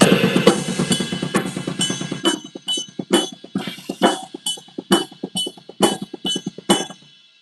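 A drum kit pounds rapid sixteenth notes on a double kick drum under crashing cymbals, then drops to sharper, evenly spaced accented hits. Loud and close, with no voices.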